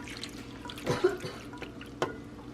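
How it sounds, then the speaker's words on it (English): Marinade poured over chicken pieces laid skin side down, heard as quiet liquid trickling and a few soft splashes and drips, close by and with no talking. "and we're gonna just pour it like that"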